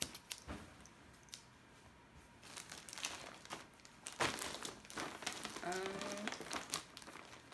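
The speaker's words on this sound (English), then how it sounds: "scissors so I can open this huge package" Crinkling plastic and sharp snipping of scissors cutting open a large plastic-wrapped package, close up, with scattered rustles and a brief tearing burst.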